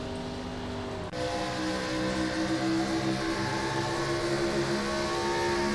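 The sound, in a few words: NASCAR stock car engine in iRacing video game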